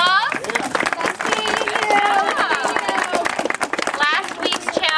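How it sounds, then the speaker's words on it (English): Audience at a youth group meeting giving a round of applause, brisk dense clapping from a crowd in a room that lasts a few seconds, mixed with cheers and chatter. "Round of applause."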